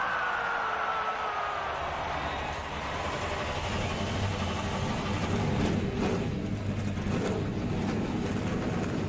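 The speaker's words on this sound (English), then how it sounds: "The engines are fired here" Race car engines rumble to life at Auto Club Speedway in a NASCAR video game, a loud continuous droning roar of many engines with a rising whine, alone with no talk.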